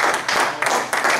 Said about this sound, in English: Let's give Pastor Brian, Pastor Brian, over here with a big hand